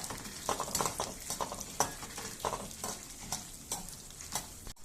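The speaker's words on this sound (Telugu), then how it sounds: "బాగా వేగాలి ఇది కూడా దోరగా లైట్గా వేగాలి, ఎక్కువ వేగకూడదండి, చాలా లైట్గా వేగాలి." Ingredients for coriander chutney being stirred and fried in a pan, giving a steady soft sizzle broken by repeated scraping strokes of the spoon, close up with no talking.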